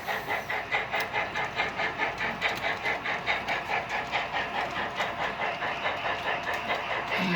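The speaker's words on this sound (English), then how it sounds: "we'll let the train move on" A model train rolls steadily along its track with a rhythmic clickety-clack, a continuous close mechanical rattle and hum with no voices.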